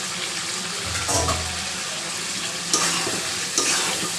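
Chicken skin, giblets and liver frying with potatoes and garlic in a spiced curry, stirred so it sizzles loudly and steadily, with a few sharper scraping bursts from the spatula, close up.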